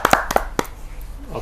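A few sharp hand claps from a small audience welcoming a poet at a Hindi kavi sammelan, close and brief, fading into a quiet room within a second.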